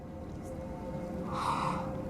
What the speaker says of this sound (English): It's breathing.